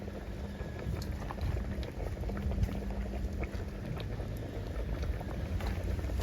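A pot of Jamaican saltfish stewed peas simmers at a steady low bubble, with a soft continuous burble and faint popping, no voices.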